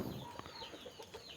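Chickens kept on a rural property cluck softly and intermittently, faint and somewhat distant against steady outdoor background noise.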